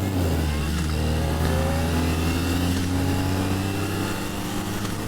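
A Kawasaki ZX-4RR motorcycle accelerates hard, its high-revving four-cylinder engine a loud, continuous rising whine with tones that sweep upward, close and steady throughout.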